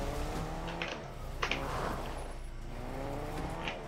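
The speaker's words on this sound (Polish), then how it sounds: "Nie no, to auto tak dziwnie jeździ" A car driven in the video game Fortnite, its engine a steady synthetic hum with shifting pitch and faint tire noise, moderately quiet and continuous, with no talk over it.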